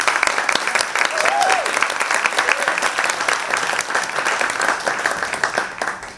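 Sustained applause from an audience at a cultural event at the United Nations, steady clapping throughout with faint voices mixed in underneath.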